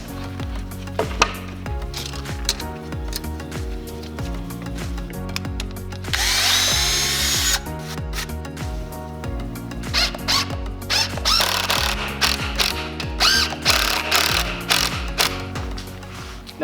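A power drill drives 3-inch screws into a wooden stud while a kicker ramp is being built. Loud, close whirring comes in repeated bursts, with the motor pitch rising and falling and a sustained harsh stretch midway.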